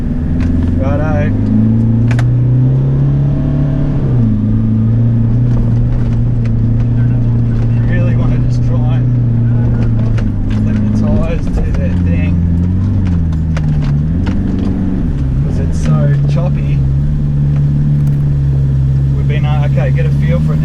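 A 4WD with tyres let right down rolls up soft Simpson Desert sand dunes, its engine droning steadily and loudly throughout with shifting pitch under the low hum of the drive.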